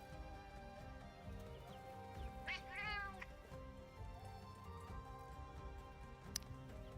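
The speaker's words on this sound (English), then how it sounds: "That freaking Freedom Unite cat noise seems out of place." A cartoonish cat meows once in the Monster Hunter Stories 3 game, a short bent cry rising from a dense bed of layered game music and ambience, fairly faint and brief.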